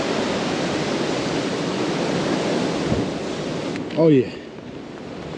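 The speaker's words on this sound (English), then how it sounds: "the wind is ripping" Strong wind roars steadily across a mountain trail on a winter backpacking trip along the Appalachian Trail, a loud broadband rush buffeting the microphone, with a brief exclamation from a hiker near the end.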